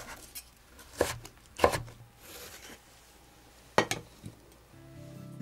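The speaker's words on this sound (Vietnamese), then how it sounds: "Cắt nhỏ các hạt lựu đó các bạn, để cà dễ tan nè" A knife dices tomato into small cubes on a cutting board, giving a few sharp, close chops spaced irregularly over a quiet room, with faint tapping between the main strikes and a soft hum near the end.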